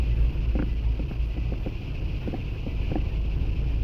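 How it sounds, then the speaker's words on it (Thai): Wind blows across a boat on open water, a steady rushing roar with buffeting on the microphone and light knocks and splashes throughout, with no talking. "ลมมาแล้วเนาะ"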